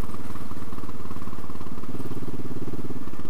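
Royal Enfield Classic 500 single-cylinder motorcycle engine thumps nearby in a steady, even pulse, with a slight shift in tone partway through and no talking.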